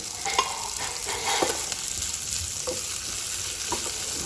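Onion vadagam, a dried Tamil onion-spice pellet, being stirred and sautéed in a pan, with a soft steady sizzle and intermittent scraping strokes of a spoon against the pan, no voices.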